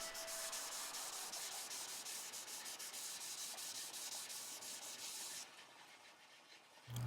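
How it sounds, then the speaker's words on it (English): Steady dry rubbing of 1000 grit sandpaper over a crucible steel (wootz) seax blade, stripping black oxides, continuous and close for most of the stretch before easing off near the end. "I remove most of the black oxides using 1000 grit sandpaper"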